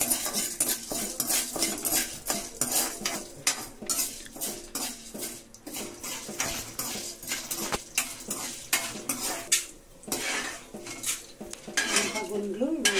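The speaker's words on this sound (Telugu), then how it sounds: "ఈరోజు బెండకాయ చట్నీకి మినప గుండ్లు, పొట్టు తీయని గుండ్లు. కొంచెం ఆయిల్ వేస్తున్నా." Whole black urad dal is fried in a little oil in a pan for okra chutney in a village kitchen, dominated by close, busy clinks and scrapes of a metal spoon stirring against the pan, with faint sizzling underneath.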